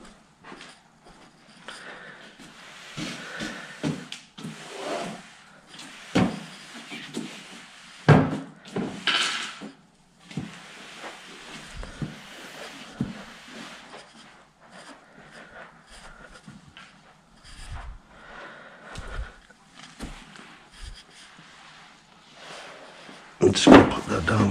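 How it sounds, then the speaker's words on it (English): Wooden drawers of an IKEA Kullen chest of drawers being slid into the frame and locked in place, giving a series of knocks, scrapes and thumps of varying loudness, with a sharper bang near the end. "show you how to put the drawers in and lock them into place"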